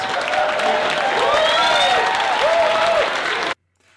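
A comedy club crowd applauds after a stand-up set, dense clapping mixed with whoops and cheers, loud and sustained for about three and a half seconds before it cuts off.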